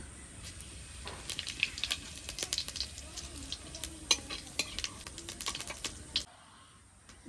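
Bay leaves, dried chillies and whole cumin seeds crackle in hot oil, a faint, close sputtering with scattered sharp pops that stops abruptly near the end, no speech.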